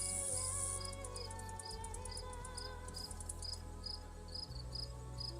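Two overlapping cricket chirp loops play as an ambient night sound effect in an Unreal Engine MMO, a quiet, rapid, regular high trill pulsing steadily over a low hum.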